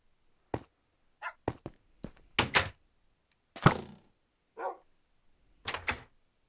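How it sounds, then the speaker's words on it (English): A puppy in the Minecraft video game barks in short, separate yaps spread across several seconds, with a few dull thunks between them and a steady high electronic tone running underneath. "Oh, such a cute little puppy."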